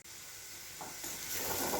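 Chicken momo filling sizzles in a wok, a steady frying hiss that builds louder over a short stretch with no talk.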